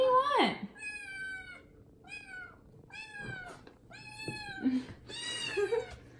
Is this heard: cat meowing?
yes